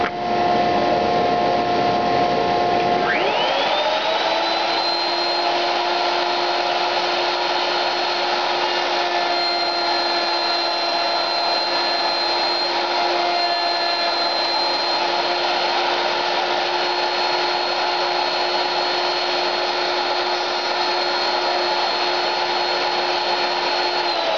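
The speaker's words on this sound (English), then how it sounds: "The small cove is nothing more than a 3/16 cove bed installed in the router table." Router table spinning up and cutting small cove molding with a 3/16 cove bit: a motor whine rises after a few seconds, then a steady loud high-pitched drone holds to the end, with no talking.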